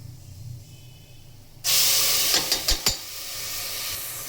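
Onion-chili paste hits fried ginger-garlic paste in a pan for chicken curry, bursting into a loud steady hiss and sizzle with a few sharp scrapes and clatters of stirring, close and alone.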